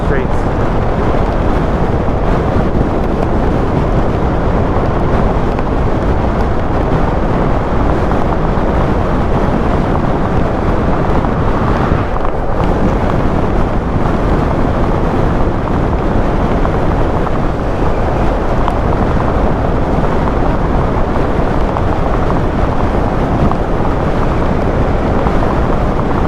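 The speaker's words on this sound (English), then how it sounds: "I wonder how the audio sounds with all this wind coming through." Steady, loud wind buffeting a microphone while riding outdoors in autumn, a dense continuous roar with no pauses.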